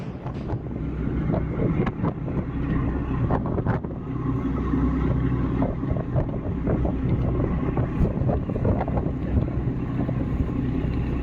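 Ferry crossing to Ko Samui in Thailand: a steady, loud rumble of the boat's engine and water, with wind buffeting the microphone throughout, continuous and without talking.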